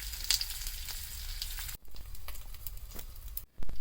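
Savi leaf vada frying in oil over a low flame gives a steady, close sizzle with fine crackling that dips briefly twice, with no voices.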